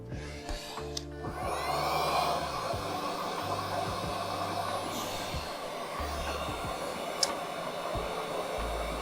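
A heat gun or hair dryer blows continuously to warm and loosen the glued back glass of a Samsung Galaxy S7 during a battery change, a steady airy whoosh with a few clicks and small handling knocks.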